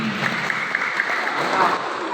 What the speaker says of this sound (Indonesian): Tepuk tangan untuk stasi kiri kanan.